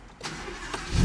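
A white Audi R8 sports car's engine cranks over briefly, with a low rumble swelling up loud at the very end of the short burst.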